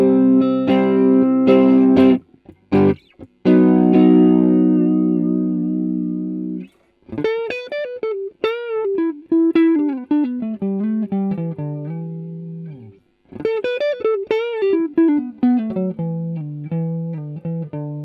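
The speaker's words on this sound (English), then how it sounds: "Let's have some samples, and I'll start with live guitar." Live electric guitar run through the AIR Sprite minimal multi-effects plugin with reverb, delay, EQ and compression, playing strummed chords and then melodic single-note phrases that ring out with a processed, sustained tone, with no talking.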